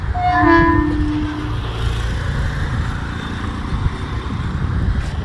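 A Mumbai suburban local train rumbles past near mangroves and a creek, its horn sounding briefly at the start, followed by a steady low clatter of wheels on track.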